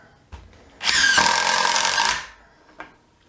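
A DeWalt DCF801 12V brushless impact driver runs in one loud, rattling burst of just over a second, framed by a few small clicks of handling.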